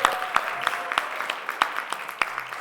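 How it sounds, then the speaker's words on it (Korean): Sparse, scattered clapping from a small church congregation at a Sunday service, with distinct individual claps rather than a full roar, fairly close. "박수"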